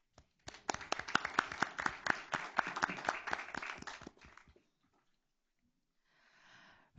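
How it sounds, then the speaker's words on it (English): A board meeting audience claps in sustained, even applause for about four seconds, fairly close and full, then it fades out into near silence before some faint rustling. "give them a round of applause"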